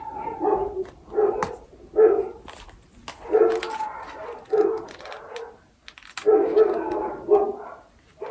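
Dogs bark outside on a residential road, with repeated loud barks and yips in irregular bursts, several close together, separated by short pauses.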